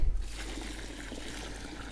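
Water poured from a half-full bucket onto a rose bed, a soft continuous splash and trickle after a brief thump at the start.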